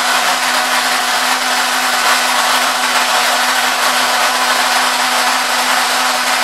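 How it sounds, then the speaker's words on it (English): Inside an automated drive shaft welder, the drive shaft turns with a steady, loud, unbroken mechanical whir and hum, continuous and unvarying, with nobody speaking. "Drive shaft is rotating."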